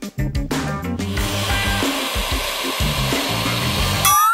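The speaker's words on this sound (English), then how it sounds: "Then, I'm gonna mix up the whites until they become nice and foamy." Egg whites being whipped until foamy with an electric mixer, a steady loud whirring drone that runs continuously and close, with no talk over it.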